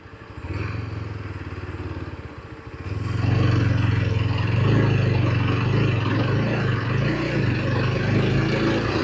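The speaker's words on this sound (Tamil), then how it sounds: "அந்த செகண்ட் கியர், தேர்ட் கியர் ரெண்டுலேயும் தான் ஏறுது வண்டி." A motorcycle climbs a hill road toward Ponmudi in second and third gear. The engine drones steadily, then grows louder and fuller as the bike pulls harder uphill, close and continuous with no talking.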